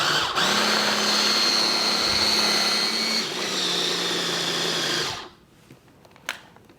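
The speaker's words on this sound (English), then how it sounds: "So let's go ahead and put the cover back on. And hit blend." A blender purees hummus ingredients with a steady, loud, high whirring drone that holds for about five seconds and then stops, followed by a few faint clicks.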